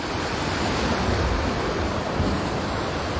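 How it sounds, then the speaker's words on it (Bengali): Floodwater surges loudly through the Muhuri project sluice area in Feni, Bangladesh, a dense, unbroken roar of rushing current that stays constant and close throughout, with no voices. "পানির প্রচুর স্রোত দেখছেন।"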